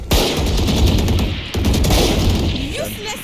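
Rapid gunfire in the tactical shooter Valorant on the Breeze map, a loud, dense rattle of shots with a brief break midway, with a voice talking faintly near the end.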